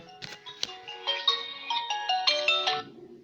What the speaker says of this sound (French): Je sais pas pourquoi ça sonne un dimanche.